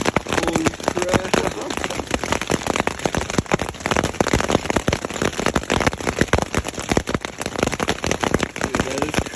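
Hail pelting a camping shelter during a spring storm in the Uinta Mountains backcountry, a loud dense barrage of sharp irregular impacts hammering nonstop at close range.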